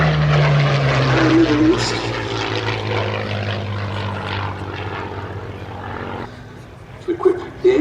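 Curtiss P-40F Warhawk flying at the Duxford Battle of Britain Airshow 2021, a steady propeller-engine drone that slowly fades under a commentator's voice.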